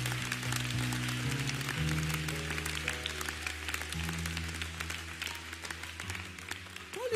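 A church congregation applauds in sustained, steady clapping under soft sustained music, moderately distant and continuous throughout.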